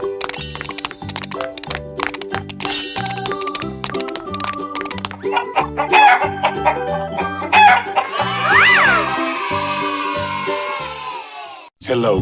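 A cartoon chicken crows in a 3D animal slide video game, heard over bouncy game music with bell-like dings and chimes, plus a sweeping whistle effect.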